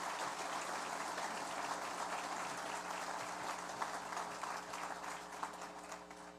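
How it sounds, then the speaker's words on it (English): Audience applause for guests at an indoor memorial anniversary celebration, a steady patter of many hands clapping throughout, fairly faint and distant with a low hum underneath, thinning slightly toward the end. "Please a round of applause for our distinguished guests tonight."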